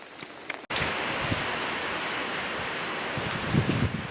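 Steady rain pours down on a farm where chickens shelter from the weather, a dense even hiss of drops striking surfaces, loud and close, with a brief cutout early on and no voices.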